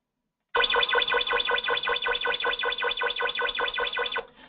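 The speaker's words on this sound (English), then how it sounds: "So that is a high alert, ladies and gentlemen." High alert tone from a G7 safety monitoring device, a loud, buzzy warbling alarm that pulses rapidly and evenly for about four seconds after silence, then cuts off.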